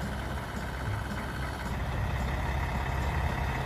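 Engine of an oversized cargo truck hauling a huge generator into a town center under police escort, a steady, loud, dense roar with no breaks and no voices.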